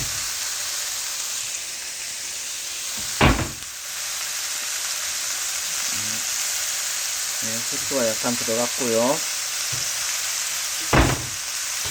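Thinly sliced pork belly frying in a pan seasoned with salt and pepper, a steady soft sizzle throughout with a few clinks of a utensil and someone speaking briefly over it.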